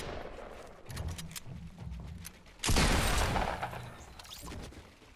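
Gunfire from the Fortnite battle royale video game comes as a sharp burst partway through, preceded by lighter rhythmic game sounds and followed by a fading tail.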